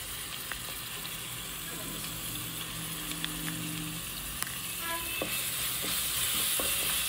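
Ginger garlic paste frying in a pan for an Andhra gongura chicken, a faint steady sizzle with scattered small pops and clicks, quiet and continuous throughout.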